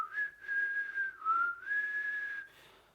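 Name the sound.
whistling imitating Death's signature whistle from Puss in Boots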